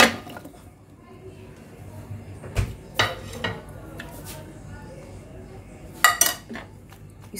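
Vegetables being tossed in paneer tikka marinade, with scattered clinks and knocks of a utensil against a bowl and a few sharper clatters near the end, all over a faint background.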